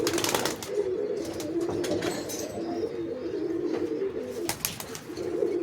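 Teddy pigeons coo in deep, throaty rolling calls that repeat steadily up close, with a few brief sharp rustles and flutters scattered through.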